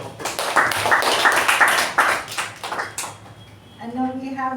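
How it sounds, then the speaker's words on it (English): An audience at a Toastmasters club meeting applauds for about three seconds, a close burst of clapping that tapers off before a voice begins speaking. "Let's give ourselves a round of applause."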